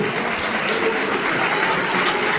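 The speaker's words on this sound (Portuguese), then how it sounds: "Dá uma salva de palmas bem alegre" Church congregation clapping joyfully during a worship service, a dense, continuous burst of applause from many hands filling the room at steady volume.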